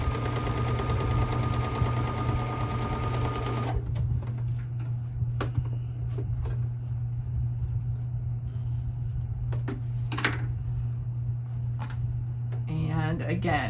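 A sewing machine sewing rows of a quilt block hums steadily at first, then stops, leaving scattered clicks and handling noises, with a brief burst of stitching near the end.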